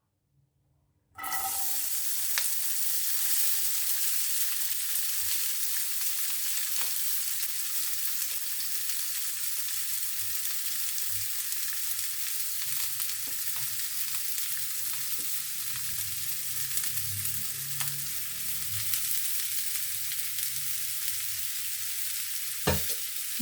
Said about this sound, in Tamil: இப்போ எண்ணெய் காஞ்சிருச்சு, நறுக்கி வச்சுருக்க அவரைக்காவை போட்டுடலாம்.